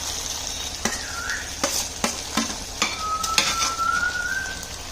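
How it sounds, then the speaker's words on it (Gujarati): Cauliflower pieces fry in a pan while a utensil stirs them, a steady sizzle broken by several distinct scraping knocks at irregular intervals, close and moderately loud, with a faint whistle-like tone partway through. "અને જે હવે આપણે ફ્લાવરના પીસ કરેલા એ એડ કરી દઈશું."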